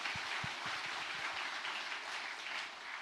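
Steady church congregation applause fills a large room, even and sustained, with a few louder claps standing out near the start.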